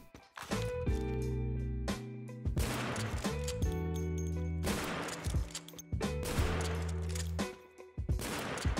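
Gunfire from weapons in a Dreams game creation on PS5: three bursts of rapid shots, each set over a heavy low sustained tone, loud and close, separated by brief pauses with clinking debris.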